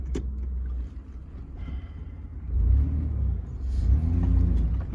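A Mitsubishi Delica drives off-road over rough ground, its engine a low steady rumble that swells louder in two heavier surges, close up with no talk.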